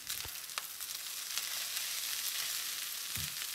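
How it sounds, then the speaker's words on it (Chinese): Egg fried rice with sea salt and scallions stir-frying in a hot pan: a continuous close sizzle with occasional scraping and clinks of the spatula, no talking. "炒一分钟左右，把葱的香味炒到米饭中就可以了"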